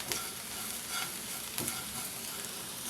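Grated carrot and drumstick leaves stir-fry in a pan with an even, fairly quiet sizzle, broken by a few brief spatula scrapes.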